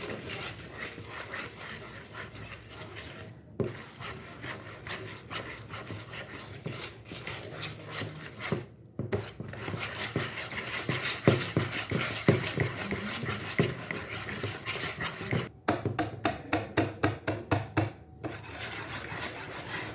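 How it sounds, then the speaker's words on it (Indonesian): Egg-yolk batter for a brownie pie is stirred by hand with no mixer, giving a soft, continuous scraping swish that turns into a quick run of rhythmic strokes near the end, quiet and close. "Dan ini bisa diaduk dengan cara manual seperti ini."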